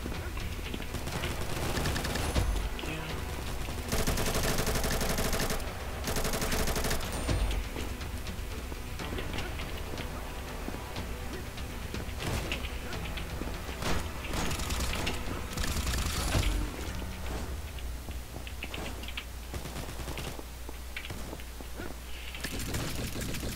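Rapid bursts of gunfire from the first-person shooter Combat Master, in repeated loud volleys and single shots with mechanical weapon clicks, crowding the whole stretch without any speech.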